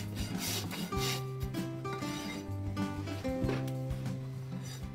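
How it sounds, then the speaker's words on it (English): A farrier's rasp files down a horse's hoof propped on a stand, steady scraping strokes repeating close by under faint background tones, with no speech. "This one's getting rasped down."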